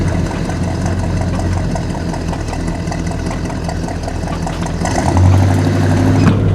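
A 1969 Oldsmobile 442 V8 idles steadily while warming up, a loud, even rumble with a rhythmic lope that swells slightly near the end, with no talking over it.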